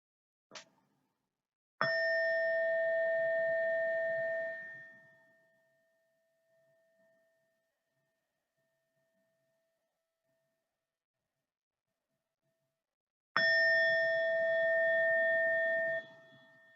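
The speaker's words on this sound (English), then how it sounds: "we'll start with 3 sounds of the bell" A bowl-like meditation bell rings twice with long sustained tones, separated by a stretch of near silence, after a small tap at the start.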